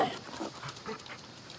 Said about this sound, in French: le chien qui récupère les fléchettes